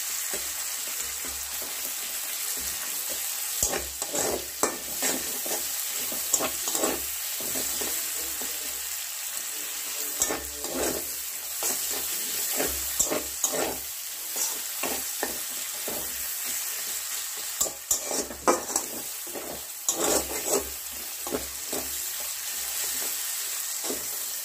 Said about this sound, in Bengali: পেঁয়াজটা হালকা ভেজে ভেজে নিতে হবে, হালকা বাদামি রঙের হবে পেঁয়াজটা